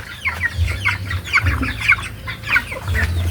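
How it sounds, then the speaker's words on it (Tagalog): Chickens cluck in quick, repeated bursts nearby, with a low steady hum underneath. "Inihuli na pong yung manok po natin mga idol."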